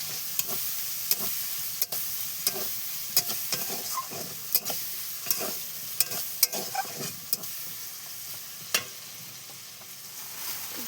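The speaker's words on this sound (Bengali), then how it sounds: "পেঁয়াজ দিলাম, পেঁয়াজটা ভাজা হয়ে গেলে" Onions and jackfruit frying in a pan, sizzling steadily, with a spoon scraping and stirring in repeated sharp strokes throughout and no voices.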